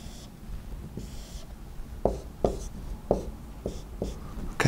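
A marker scratches and taps against a board while a logic circuit's AND gate is drawn, a run of short, faint strokes over a low room hum.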